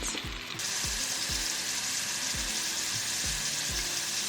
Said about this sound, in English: Add your shrimp. And we're going to sear them for about 1 minute.